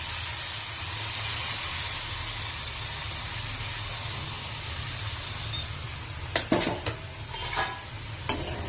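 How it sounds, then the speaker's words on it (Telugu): Tomato puree going into a sizzling soya chunk curry: a constant hiss of cooking in the pan, followed near the end by several scraping clatters of a spoon stirring against the vessel. "ఇప్పుడు నేను దీంట్లో టమాటా ప్యూరీ యాడ్ చేస్తున్నాను"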